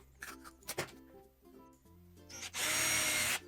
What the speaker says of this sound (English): I will drill starter holes for each ring to get the scroll saw blade through.